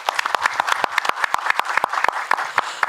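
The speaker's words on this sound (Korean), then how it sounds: "법회 스님 박수 부탁드리겠습니다." Audience at a temple food international symposium claps for the head monk of Jingwansa, a few seconds of sharp, distinct hand claps from a modest crowd, uneven in rhythm and close by.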